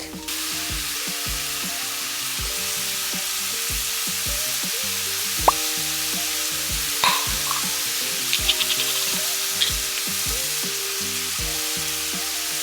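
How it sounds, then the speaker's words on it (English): Continuous sizzling of ground pork and minced garlic frying in oil in a pan over medium-high heat, with occasional scrapes and clinks of a utensil stirring, steady and close. "heat up a bit of oil in a frying pan over medium-high heat and saute the pork with minced garlic"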